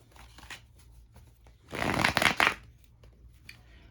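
A deck of playing cards is riffled and shuffled in one loud burst of rapid fluttering slaps lasting under a second, with quieter card handling and small taps before and after.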